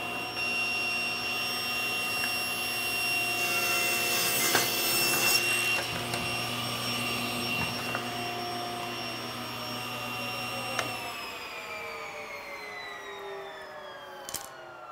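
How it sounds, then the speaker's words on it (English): A table saw cutting through wood held in a jig with toggle clamps, a steady loud whine with a rising cutting tone that winds down near the end, no talk. "all I have to do is feed the jig past the table saw blade."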